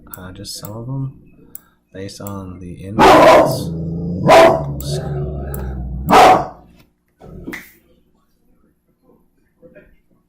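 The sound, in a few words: dog barking in the house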